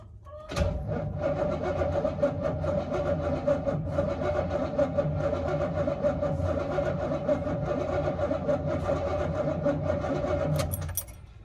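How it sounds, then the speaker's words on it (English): A project car whose starter had been underwater cranks continuously for about ten seconds, the starter motor whirring with a steady but slightly uneven pulsing rhythm close to the microphone, then cuts off. "She cranks. Doesn't sound very even."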